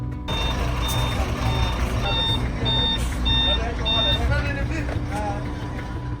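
WFP food truck loaded with 25 kg bags of sorghum, engine rumbling low and steady while repeated reversing beeps sound over it, with chirpy calls and voices faintly mixed in.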